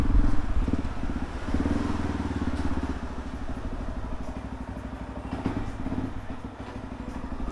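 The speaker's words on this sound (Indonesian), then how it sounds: "Ini bunyi mesin mah normal, nggak ada suara kasar" Yamaha WR155R motorcycle engine idling close by, a steady rhythmic mechanical clatter and low throb continuing throughout without talk.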